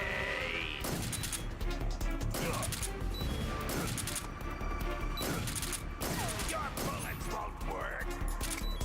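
Heavy gunfire in the stealth action game Metal Gear Solid 3, a loud, dense barrage of rapid shots and impacts that runs without pause, layered with other game noise.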